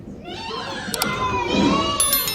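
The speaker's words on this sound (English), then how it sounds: "you guys are making a lot of noise. No shouting." Kindergarten children shout together in an ESL classroom in China, a loud, sustained chorus of high voices rising and falling across the moment with overlapping yells.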